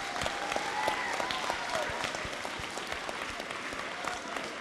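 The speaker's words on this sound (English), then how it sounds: "Give a round of applause for our teachers here." Steady applause from a sizable school audience for teachers, dense clapping filling the room at a moderate distance.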